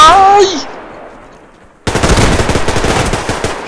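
Automatic rifle fire in the video game Survarium, a rapid burst of loud, close shots that continues steadily after a short electronic tone and a quiet pause.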